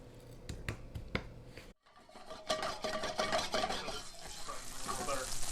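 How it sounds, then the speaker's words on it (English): Butter sizzling and browning in a hot pan while cooking ram-don, a steady crackling fry that follows a few sharp clicks and a brief pause, loud and close with no talk. "See how it's starting to sizzle?"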